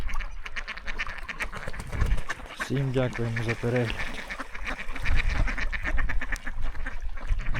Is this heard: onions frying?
no